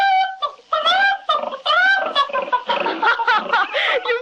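A rapid series of squealing, nasal pig oinks and grunts, loud and close, bunched together in a comic, cartoonish way.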